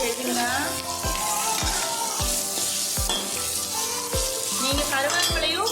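Sliced onions sizzle and fry steadily in a pan, a dense continuous crackle with a rhythmic series of scraping stirs close up, for a curd rice dish.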